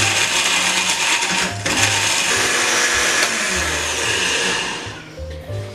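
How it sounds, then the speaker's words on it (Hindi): A dry mill grinder pulverizes whole garam masala spices for nihari masala into powder, a loud continuous whirring roar with brief pulsing dips and motor pitch shifts, close up with no talk, slowing toward the end. "एक ड्राई मिल के अंदर हम इसे बिल्कुल पाउडर बना लेंगे। तो इसे ग्राइंड कर लेते हैं।"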